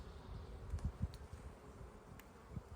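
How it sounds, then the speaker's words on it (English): Honey bees buzzing around a healthy hive colony, a low soft droning hum with a few closer passes flaring up briefly, faint and steady without talk. "They still have a lot of bees, and they're still very, very healthy."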